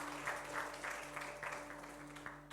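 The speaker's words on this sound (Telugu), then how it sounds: "అందరు చప్పట్లు కొట్టి ప్రభువును" A church congregation claps hands during a service, a rhythmic round of roughly even claps, fairly faint and distant, over a low steady hum.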